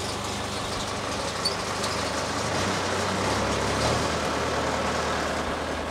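A Bandit 150XP wood chipper engine idles steadily while warming up, a continuous low rumble holding at an even level throughout with no other sounds.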